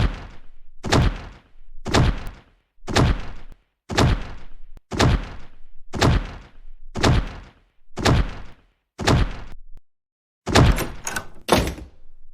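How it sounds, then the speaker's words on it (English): A house door is slammed shut again and again, about nine heavy, evenly spaced thuds close by, each followed by a short rattle, with a double bang after a brief pause near the end. "Stop slamming your door, Jessica."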